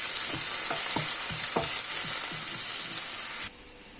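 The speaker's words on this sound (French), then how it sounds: "Et je vais faire revenir un oignon émincé." Sliced onion frying in olive oil for a white fish fillet dish, a steady bright sizzle with several scraping stir strokes early on, the sizzle dropping away abruptly near the end.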